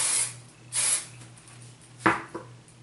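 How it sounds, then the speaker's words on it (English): Short hissing bursts of hairspray, a few quick sprays spaced apart, close up in a quiet room with a faint low hum. "So I'm gonna go and spray my hair from back here."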